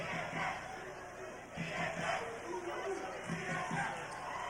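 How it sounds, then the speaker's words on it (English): A high school state championship basketball crowd in Dayton roars and cheers in a dense, sustained wash of voices, with an announcer talking over the noise. "the Dayton crowd, which really hasn't sat down for much of the night, is ready for a little celebration"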